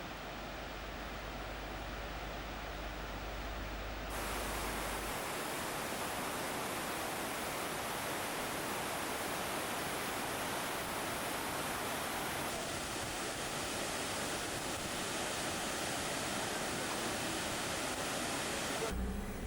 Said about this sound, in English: we came to the majestic waterfall at Tvinde